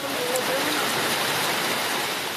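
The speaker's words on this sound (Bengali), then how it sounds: "সন্ধ্যা যেন নেমেছে ভোরেই, তারপর মুষলধারে বৃষ্টি।" Heavy torrential rain pours steadily after a dark, thundery morning in Jashore, a dense, loud hiss of water hitting the ground with no breaks.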